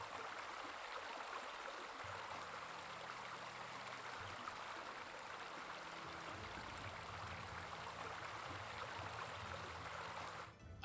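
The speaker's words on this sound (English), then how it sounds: "Babbling brook is babbling. Very noisy." A babbling brook in Battle Realms flows on in a continuous, even hiss of running water, quiet and unbroken for a long stretch, with a brief low rumble near the end.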